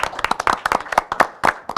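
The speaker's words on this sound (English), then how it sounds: "if we could give her a round of applause" A small audience at a board of education meeting claps briefly, the individual hand claps distinct and irregular, close and fairly loud, fading out within a couple of seconds.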